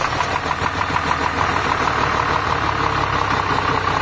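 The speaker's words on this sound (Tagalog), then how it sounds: "Start your engine." Car engine idling steadily after an oil change and a loosened injector repair, a continuous close mid-range drone with a faint rhythmic tick running through it, alone with no talk.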